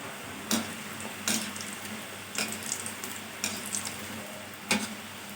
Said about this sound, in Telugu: అటు ఇటు బాగా తిప్పుతూ ఫ్రై చేసుకోవాలి